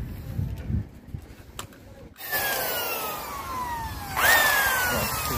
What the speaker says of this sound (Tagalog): So, bali bubutasin ko muna yung ating isolator switch kasi para may lusot natin dito yung ating power supply.